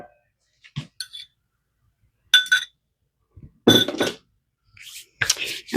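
Kitchen sounds while mashed bananas for banana bread are moved into a bigger bowl: a few separate clinks of utensil against a bowl, short and sharp, spread out with quiet gaps between them.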